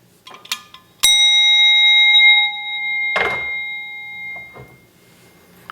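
A single bell is struck once and rings with a clear, sustained metallic tone that slowly decays over a few seconds, with faint clicks and handling noises before and after it.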